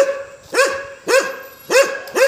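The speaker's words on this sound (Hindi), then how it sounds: "सो ये सारे घर में एक ना एक कुत्ते हैं जो भौंक रहे हैं और हमें डिस्टर्ब कर रहे हैं" A dog at a house in a residential neighbourhood barks four times in a steady rhythm, each bark loud, sharp and close, with short quiet gaps between and no talking.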